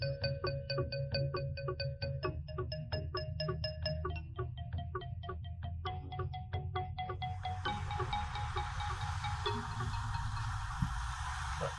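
A telephone call rings out through a repeating ringback pattern of tonal bursts, steady and clear, then gives way to a brighter buzzing line tone near the end, with no talk over it.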